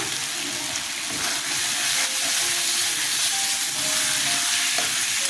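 Sliced pointed gourd (potol) frying in oil in a pan, with a steady close sizzle and hiss running throughout and faint stirring scrapes, no talking.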